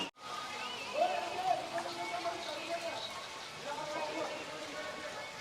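Gaumukh natural spring at Chittorgarh fort, a stream of water pouring steadily over a Shiva lingam, heard as a continuous close splashing rush without a break.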